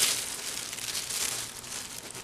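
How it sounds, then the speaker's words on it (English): Plastic bag being cut with scissors along a spiral to make plarn, a continuous close crinkly snipping and rustling of thin plastic with no talk. "Once you're done cutting the whole bag, it'll open up."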